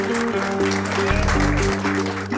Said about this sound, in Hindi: मैं आप सब लोगों की तालियों का मतलब समझ गया हूं